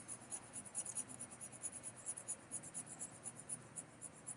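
A pencil shades across paper under heavy pressure, making a faint, close, rhythmic scratching of quick back-and-forth strokes that carries on steadily.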